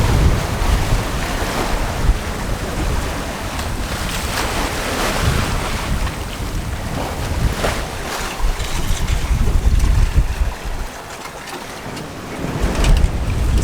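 A sailboat sails through waves on the ocean among reef passes, a continuous rush of surf and wind noise buffeting the microphone, with louder swells breaking now and then.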